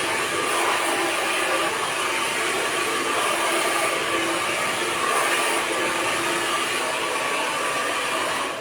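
A hair dryer blows steadily during a blow-dry styling session, making a loud, unbroken airy roar that fills the whole stretch with no talking.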